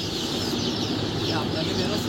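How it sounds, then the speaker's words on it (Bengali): A brooder full of naked neck crossbred chicks, a constant busy chorus of overlapping cheeps and peeps from many birds close by. "আপনাদেরকে দেখাচ্ছি আমি অরিজিনাল গলাচিলা মুরগির বাচ্চাগুলো"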